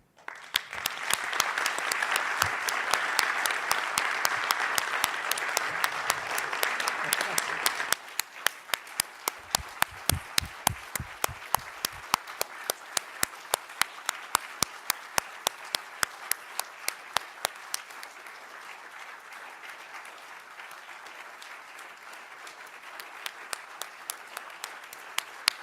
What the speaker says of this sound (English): I sincerely invite everyone to give Paul a big round of applause